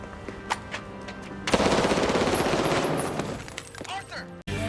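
Simulated gunfire from a film scene, with a dense, loud sustained burst of rapid shots after quieter ambient sound and scattered sharp cracks, the volume slowly easing off toward the end.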